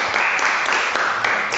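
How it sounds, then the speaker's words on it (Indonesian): Students in a school classroom clap together, a short burst of dense, even applause close by and fairly loud. "Tepuk tangan semua."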